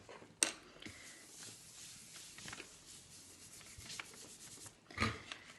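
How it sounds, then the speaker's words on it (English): Paper is rubbed by hand over a styrofoam printing plate, giving a soft, close, continuous scratchy rubbing broken by a couple of brief sharper scuffs. "So I'm pushing and rubbing gently, making sure I get all the corners."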